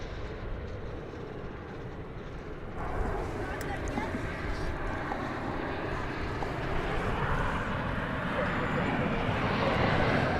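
An Alaska Airlines plane arriving from Seattle at DFW airport, heard from Terminal D as a broad, steady jet engine roar that builds slightly over ten seconds, with no one talking.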